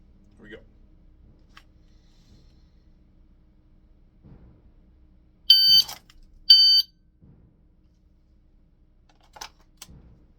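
A shot timer gives two loud, sharp electronic beeps about a second apart during dry-fire draw practice. Quiet handling clicks and soft rustles sit around the beeps, along with a few faint sounds near the end.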